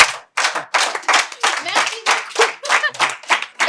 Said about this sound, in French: On applaudit très très fort pour tout le monde